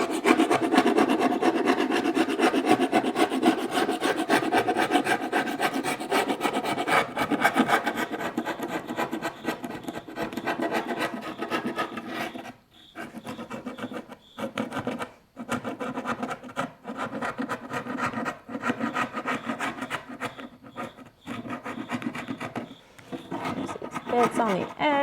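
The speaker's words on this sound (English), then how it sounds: "Then we're gonna try going over it again with the sander." A sander works over wood veneer being refinished, with continuous abrasive rasping that fades and returns in stretches, breaking off briefly several times in the second half, close and fairly loud with no voices.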